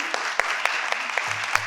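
An audience at a school board meeting claps for the student senators, a steady patter of many hands with sharper individual claps standing out, continuing throughout.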